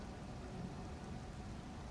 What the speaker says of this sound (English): the longer you're out there, the more the rain will tick